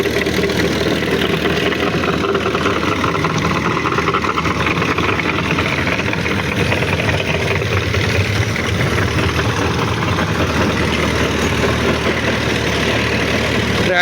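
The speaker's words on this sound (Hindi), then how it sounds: "ट्रैक्टर है जी मैसी" A Massey Ferguson 135 tractor, fitted with a 42-blade rotavator, idles steadily with a dense, constant engine rumble that stays even and loud from start to finish, with no talking.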